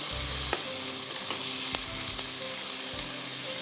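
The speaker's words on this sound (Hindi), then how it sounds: "ताज कुकिंग ऑयल में हमने जो प्याज डाली थी, जरा हल्की सी सौटे करके चिकन के पीसेस आपने डाल देने हैं।" Chicken pieces sauté with onion in Taj cooking oil, a loud, dense sizzle running throughout, punctuated by a few sharp clicks and scrapes of stirring, with no voices.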